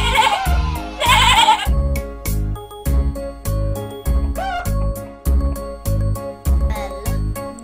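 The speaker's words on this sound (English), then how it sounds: "Sheep." Two loud, close sheep bleats open the clip, followed by a bouncy, jingly tune with a steady beat.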